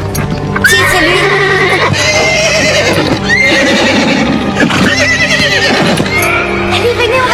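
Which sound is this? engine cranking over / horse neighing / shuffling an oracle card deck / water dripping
horse neighing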